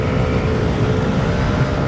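Yamaha NMAX V3 scooter engine while riding on a mountain road, a steady broadband engine and road drone with wind rush, continuous and close throughout with no talk.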